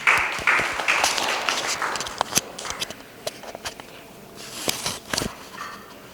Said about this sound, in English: So join me, round of applause for Mr.